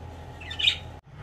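Parrots squawking inside a cage, a single brief harsh call rising over a low steady background hum, fairly close, followed by a sudden drop to near silence.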